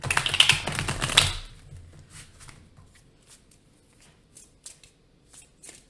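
A brisk burst of tarot card shuffling up close, followed by scattered light taps and clicks as the cards settle.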